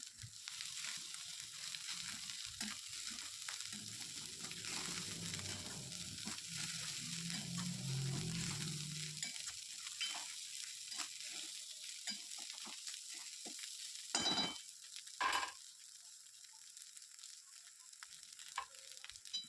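Leftover rice is stir-fried with chopped coriander in a pan, a continuous close sizzle with stirring scrapes and a couple of sharper clatters toward the end.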